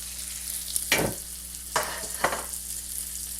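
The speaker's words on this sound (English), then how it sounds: "we're going to get it in our hot pan with the olive oil" A hamburger patty fries in a hot pan with olive oil, a steady close sizzle broken by three louder hissing bursts as it is moved or pressed, with no one talking.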